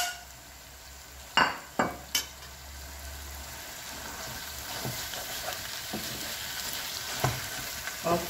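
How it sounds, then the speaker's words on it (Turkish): Boiled, squeezed spinach being stirred and folded into cooked eggs in a sizzling frying pan, with a few sharp utensil clacks against the pan over steady close frying hiss and soft scraping. "Şimdi haşlayıp suyunu iyice sıktığım ıspanaklarımızı yumurtamızın üzerine koyuyorum."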